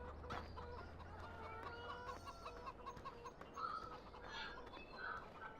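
Farm chickens in a farming video game cluck and squawk repeatedly at close range, with scattered calls over a faint low background hum.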